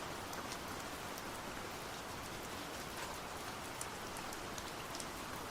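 Rain ambience played quietly behind a Final Fantasy 14 livestream, a constant soft patter and hiss of raindrops, unbroken and even, with no one speaking.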